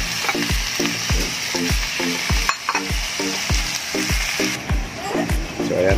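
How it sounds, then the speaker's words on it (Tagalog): Native chicken sizzles loudly as it is sautéed in a pan for tinola, with a steady rhythm of stirring and scraping strokes roughly every half second over continuous frying. "Medyo gigisahin natin konti para matanggal yung langsa niya."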